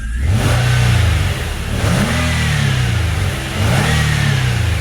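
A Nissan Altima race car engine revs up loud and close in three rising and falling surges, with a steady running hum between the pulls.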